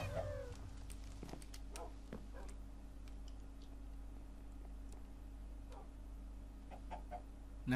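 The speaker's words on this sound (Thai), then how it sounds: "แม่งไก่โหดมากอะ" Chickens cluck in a Hypixel Minecraft arcade hide-and-seek game, short scattered clucks and squawks over a low steady hum, fairly quiet, with a louder clatter at the very end.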